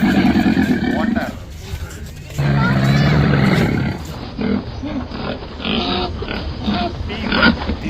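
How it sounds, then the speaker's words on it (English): A pig grunts and snorts loudly and up close in repeated rough bursts, some long and roaring, others short and choppy, continuing throughout. "Pig. This is a farm animal."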